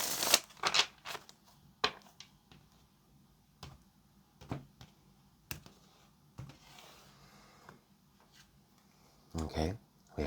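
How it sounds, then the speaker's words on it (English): Tarot cards are shuffled in a run of soft riffling bursts and scattered snaps and taps, with a louder flurry near the end and quiet pauses in between. "One more shuffle and then we will start the spread."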